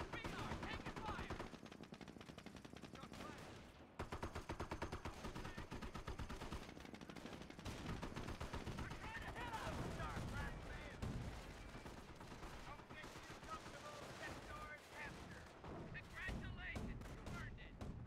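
Dense gunfire rattles through a video game battle, with machine gun bursts and heavier blasts layered over one another for nearly twenty seconds while soldiers shout over the din.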